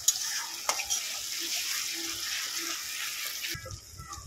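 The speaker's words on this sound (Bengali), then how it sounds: "আমি এবারে এর মধ্যে এখানে 1 চামচ আদা রসুনের পেস্ট নিয়েছি, দিয়ে দেব।" Onion frying in a pan with a spoonful of ginger-garlic paste for Bengali rui posto, a steady broadband sizzle with stirring clicks that cuts off sharply near the end, no talking.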